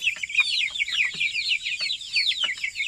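A flock of chickens clucks and chatters continuously on a farm just after feeding, a dense overlapping chorus of short calls, close and fairly loud with no talk.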